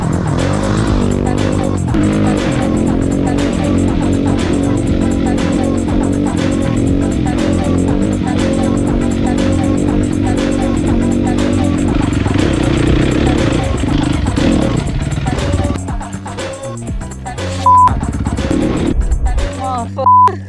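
A Honda CRF 450 dirt bike with an HGS exhaust revs hard with a loud, close, raspy engine roar that holds steady, then drops toward the end and gives short blips, with voices mixed in.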